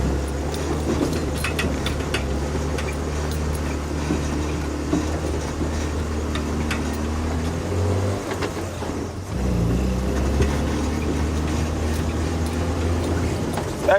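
Rusty, a safari vehicle in the Sabi Sand reserve, runs with a steady low engine rumble that dips briefly around the middle, then resumes its even drone, with no voices over it.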